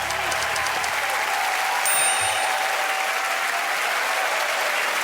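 Dense, loud applause from a large studio audience at a comedy panel show's series grand final, a continuous broadband roar of clapping and crowd noise with no break.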